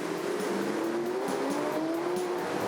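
Hybrid hypercars racing on track at the Adelaide Motorsport Festival, a loud continuous engine whine with rising, shifting pitch sweeps as the cars pass close, a constant high-speed drone without voices.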